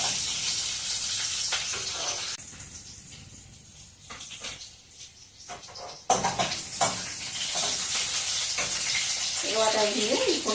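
Green chillies and garlic fry in a pan with a loud, steady sizzle and hiss, dipping briefly then surging back as stirring continues, with a faint voice near the end.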